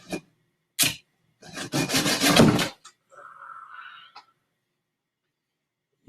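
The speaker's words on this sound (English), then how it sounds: "getting that little nub off with the hacksaw is probably the best bet" A hacksaw cuts a small nub off a broken tree branch: a few close, harsh rasping strokes in quick succession, then a brief tonal scrape and quiet.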